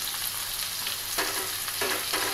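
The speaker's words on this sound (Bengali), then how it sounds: "শিম আর আলুটা একটু ভাজা ভাজা হলে" Flat bean and potato curry fries in a pan with spices, giving a steady, close sizzle with occasional stirring scrapes.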